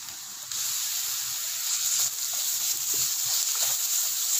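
Ginger garlic paste sizzles in a pan over golden-brown fried onions while chole masala cooks, a steady loud hiss that swells slightly after the first half second and holds with small crackles throughout, no voices.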